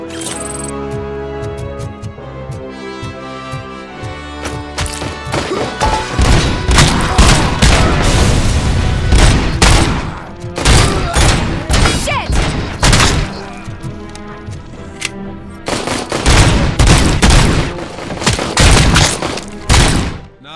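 Loud video-game gunfire from RoboCop Rogue City, with a handgun firing repeated sharp, booming shots in irregular bursts over a low music bed and occasional heavier impacts.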